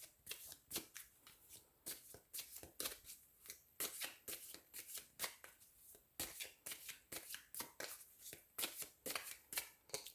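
Tarot cards being shuffled close up, a long run of quick crisp riffling bursts and flicks in a steady rhythm, quiet and alone without talk.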